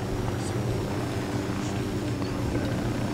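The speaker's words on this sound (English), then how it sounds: "Choppers are so cool." Helicopter rotor chop from the Wildlands video game, a steady loud drone filling the whole stretch with faint voice-like sounds mixed in.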